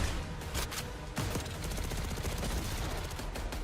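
A belt-fed assault rifle in Call of Duty Black Ops 6 fires sustained, dense automatic bursts that are loud and continuous, with a brief break partway through before the barrage resumes.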